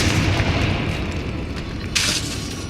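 In the Hogwarts Legacy video game, the Bombarda spell goes off with a loud, rumbling explosion and a heavy low boom that rolls on, followed by a brief bright burst near the end.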